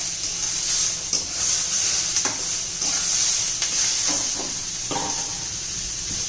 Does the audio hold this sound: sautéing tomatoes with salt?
yes